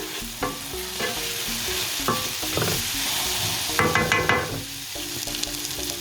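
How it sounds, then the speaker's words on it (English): Vegetables for shrimp creole sizzle in a pan as they are stirred, a loud continuous frying hiss with utensil scrapes and clinks against the pan and no voices. "And we're gonna let this go for about 5 minutes until everything gets nice and soft. And you know, have a little fun with it. Stir it around."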